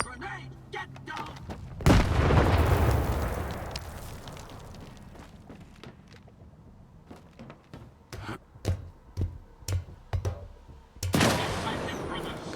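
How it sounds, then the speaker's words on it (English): A grenade blows up in the shooter game STALKER 2, a sudden loud boom with a long rumbling tail, followed by a series of sharp gunshots and another blast near the end. "Grenade, get down!"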